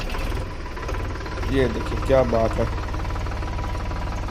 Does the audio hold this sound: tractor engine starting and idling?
yes